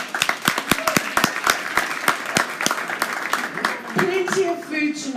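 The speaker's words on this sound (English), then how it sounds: "let's give a round of applause to Bronwyn Hesketh" Audience clapping for author Bronwyn Hesketh at a live book event in a Johannesburg bookshop, sharp separate claps from a modest crowd over about four seconds, then fading as other room sounds take over.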